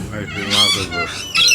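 Corellas at a bird sanctuary squawk in harsh, raspy bursts, two or three loud calls close by, with a person speaking in between.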